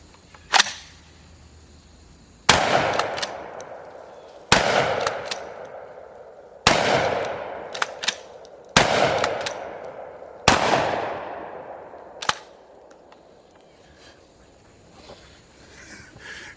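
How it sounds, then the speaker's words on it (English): A Blackwater Sentry 12 modular 12-gauge shotgun fires game loads and buckshot outdoors: about seven loud, sharp blasts, each with a ringing decay, spaced roughly two seconds apart with quiet gaps between. "We're going to throw some game loads, some buckshot through this thing while our target is still hanging on for dear life."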